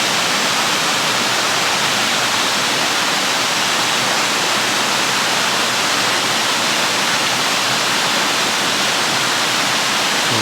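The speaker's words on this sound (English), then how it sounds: "just past the bridge there is this waterfall which is coming down off the hills and joining the Swale" A waterfall spills down off the hills into the River Swale just past a bridge, producing a loud, steady, close rushing roar that continues unbroken, with no voices over it.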